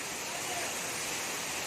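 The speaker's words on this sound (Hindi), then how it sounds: "ये देखिए वाटरफॉल।" A large waterfall beside the Mandakini river on the Kedarnath trek roars as a steady, broad rush of falling water, continuous and fairly distant with no other sounds standing out.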